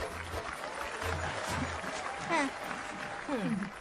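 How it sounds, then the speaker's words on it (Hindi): A gathering with an agricultural officer and veterinary doctor present gives a modest round of clapping, fairly soft and scattered, mixed with voices talking and rising speech-like sounds throughout. "तालियां बजाओ"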